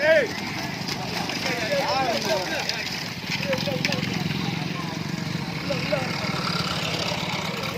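Racing bulls pulling carts in a bullock cart race pound past with rapid clip-clopping hooves under continuous loud commentary in Tamil, amid engine hum and a crowd outdoors.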